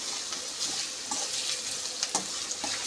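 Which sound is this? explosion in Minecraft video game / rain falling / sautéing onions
sautéing onions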